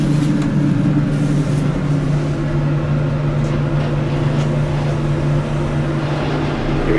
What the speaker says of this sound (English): And now we're going to ride the modernized elevator. This one got modernized by KONE.